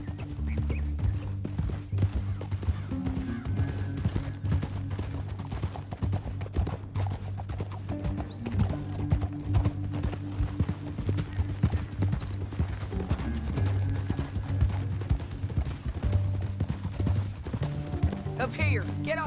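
Horses trot in Red Dead Redemption 2, with a steady run of hoof clip-clops going on throughout under a low musical score.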